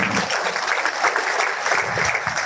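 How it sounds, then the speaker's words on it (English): Dense, steady applause from a conference audience for a panelist, sustained and even throughout with no break. "I think we should clap for her once again"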